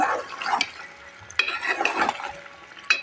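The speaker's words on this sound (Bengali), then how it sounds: "শালগমটা ঢেলে দিলাম এখন আমি আবার কষিয়ে নেব সুন্দর করে" Boiled turnip and meat being stirred in a pan, with a few sharp scrapes and clinks of the spoon against the metal over a soft sizzle, close and intermittent.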